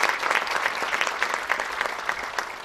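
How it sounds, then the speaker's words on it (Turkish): A crowd applauds at a Karaçay-Balkar association's anniversary celebration in Eskişehir, honoring women's branch members on stage; steady, dense clapping sustained throughout at fairly close range. "Onları bir alkışlayalım."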